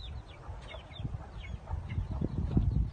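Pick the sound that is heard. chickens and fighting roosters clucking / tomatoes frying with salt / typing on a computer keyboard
chickens and fighting roosters clucking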